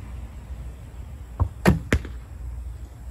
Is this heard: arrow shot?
yes